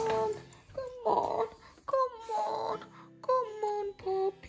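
A yellow Labrador Retriever puppy whimpers and whines in repeated high, drawn-out bursts with short pauses between them, close and fairly loud, with no talking over it.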